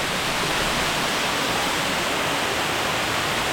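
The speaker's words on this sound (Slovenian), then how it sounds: "Tudi tukaj teče voda skozi, pa še slap." A waterfall and flowing water in the Tolminka valley make a loud, steady broadband rush that fills the whole stretch without a break, with no voices.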